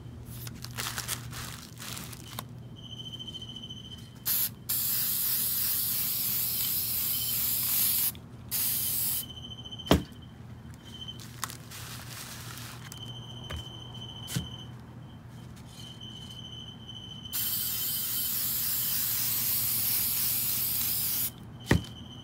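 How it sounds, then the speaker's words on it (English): Varnish spray can bursts onto a painted vase, several separate long hissing sprays with short pauses between them, close and fairly loud, with faint rattles and handling noises in the gaps. "Give it a good shake, spray into the air, and then right at the vase."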